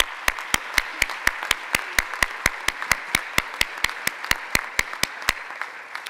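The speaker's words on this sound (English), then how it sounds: "And let's give them all a round of applause." Applause at a Founders' Day gathering, heard as sharp, evenly spaced single claps, about four per second, close and clear with no talking.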